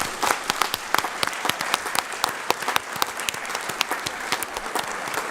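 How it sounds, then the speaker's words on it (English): An audience at a school board meeting applauds a group of high school students, dense sustained clapping from many hands in a room, steady and fairly close with no voices over it. "Give them a clap."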